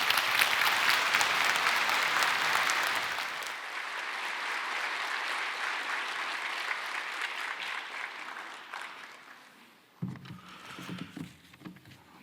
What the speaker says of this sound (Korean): 세우시고 보내신 하나님 앞에 영광의 박수로 환영하도록 하겠습니다.